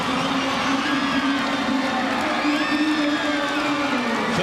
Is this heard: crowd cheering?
yes